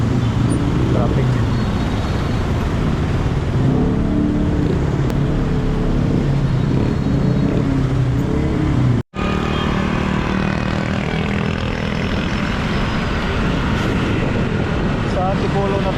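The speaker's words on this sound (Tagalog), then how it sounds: "Traffic." Busy city road traffic around a rider in Quezon City, with dense engine drone and motorcycle hum throughout, a brief dropout midway, and a voice talking over the street noise.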